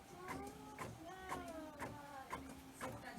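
An inkjet printer prints sublimation wrapping paper, giving a rhythmic whirring pattern of print-head passes that repeat about every half second. The sound is moderately close and fairly quiet, with a steady mechanical hum underneath and no speech.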